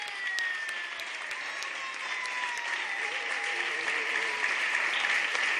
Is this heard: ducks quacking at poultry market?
no